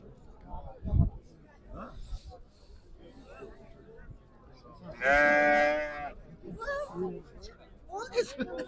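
A young goat gives one loud, wavering bleat in the middle, surrounded by quieter rustling and soft farmyard noises at a livestock market.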